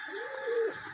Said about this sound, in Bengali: এই যে আমার সুন্দর একটা কবুতর